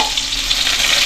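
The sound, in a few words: sautéing garlic, onion and ginger in a pan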